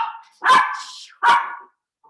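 A dog barks twice, loud and close, with a short gap between the barks. It interrupts an otherwise quiet guided breathing exercise, and nobody talks over it.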